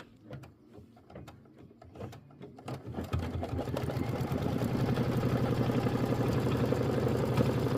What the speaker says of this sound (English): Stitch the small pocket tack down line and remove the tape.